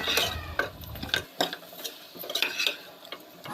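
Goat legs are fried and stirred in a pressure cooker for leg soup, a spoon clanking and scraping against the metal in quick irregular knocks, close and clear with no voices.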